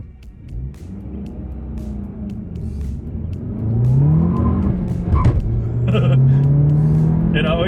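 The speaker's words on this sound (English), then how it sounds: "It always spins up the wheels in first gear." Manual 2025 Volkswagen Jetta GLI pulls hard in first gear with wheel spin, the engine note climbing and rumbling louder over several seconds, with sharp tyre and mechanical noises near the end.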